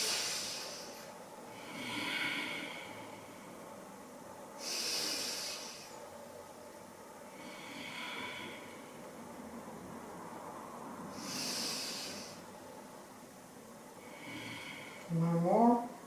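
Slow, deep breaths during a seniors' yoga class: four or five long, airy inhales and exhales spaced a few seconds apart, close and fairly soft, followed at the end by a brief spoken voice.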